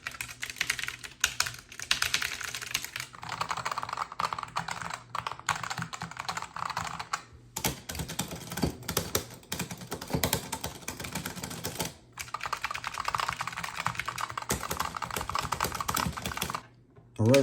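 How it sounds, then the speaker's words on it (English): 3D printed buttons on a Haute42 M13 hitbox controller clicked rapidly and continuously, a dense near stream of plastic taps with two short pauses. "Some people like to know how loud the buttons are."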